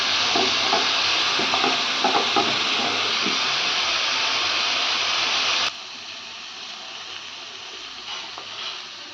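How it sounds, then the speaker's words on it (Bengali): Carrots, beans, capsicum and peas stir-fried in a pan: a steady hissing sizzle with faint scraping stirs, ending abruptly partway through and followed by quieter room noise. "এইটাকে সব ভেজে নিচ্ছি। গাজর, বিন, ক্যাপসিকাম,"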